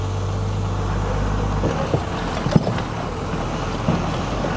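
A Cummins diesel truck climbing an off-road hill in third gear low range gives a steady, loud low engine drone with a faint rattle and a few small knocks over the rough ground.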